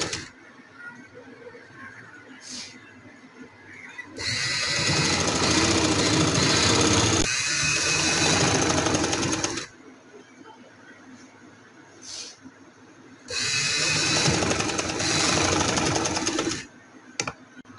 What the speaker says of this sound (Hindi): इस तरह से हम इसे रखेंगे और इसके साथ साथ सिलाई लगाएंगे।